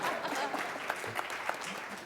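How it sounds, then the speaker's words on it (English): An audience at a conference session breaks into steady applause, a dense patter of clapping that holds throughout at moderate volume. "I think that deserves a clap"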